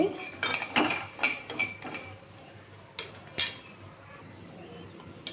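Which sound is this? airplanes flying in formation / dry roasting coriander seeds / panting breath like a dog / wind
dry roasting coriander seeds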